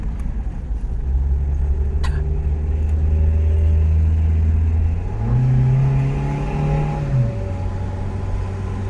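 A car engine labours steadily up the steep road to Genting Highlands, a loud continuous drone that rises in pitch midway and then drops back.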